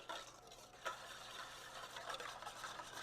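Spruce shoot vinaigrette being whisked, an oil and shallot emulsion forming in a bowl, heard as a steady, close, soft scraping swish with a brief sharper clink near the start, no talking.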